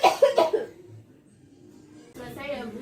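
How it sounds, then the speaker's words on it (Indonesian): A woman coughs hard twice in quick, forceful bursts during a deep-breathing and effective-coughing exercise, followed by quiet breathing and then a person speaking nearby. "Ibu batuk dengan keras."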